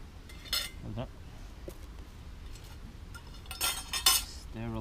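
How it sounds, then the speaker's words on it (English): Metal cutlery being sterilized with boiling water at a campfire, clinking and clattering in several bright, close bursts with quiet gaps between. "Sterilize the cutlery"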